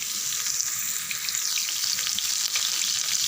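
Curry leaves and a pinch of asafoetida fry in hot oil for mango pickle, giving a steady, close crackling sizzle that runs unbroken throughout with no voices.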